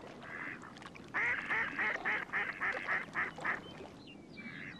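Ducks on a marsh give a rapid run of loud, harsh quacks in a rhythmic burst, fairly close, followed by softer calls against quiet outdoor background.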